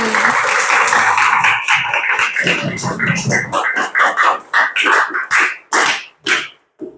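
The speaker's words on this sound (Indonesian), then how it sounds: "Tepuk tangan untuk kita semua hari ini" An audience at a school teaching session claps loudly and steadily, then breaks into shorter, separate bursts of clapping that fade toward the end, with a voice briefly heard over the applause.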